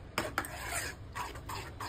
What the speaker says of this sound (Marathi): सो ह्याला मस्त एक असं मिक्स देऊया.